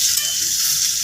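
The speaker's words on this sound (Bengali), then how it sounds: "এরকম ব্রাউন কালার করে সবগুলো মাছ আমি ভেজে নেব।" Koi fish frying in hot oil, browning in a steady, dense sizzle that stays close and even without a break and with no voices.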